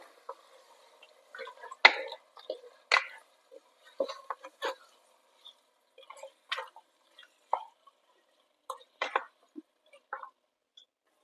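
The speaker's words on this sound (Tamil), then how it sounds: "இந்த மசாலாவிலே மட்டனை ஒரு 2 to 3 நிமிஷம் நல்லா கலந்து வேக வைங்க." Mutton is stirred in masala for Ambur seeraga samba mutton biryani, giving scattered clinks and scrapes of a utensil against the pot in irregular bursts with quiet gaps between.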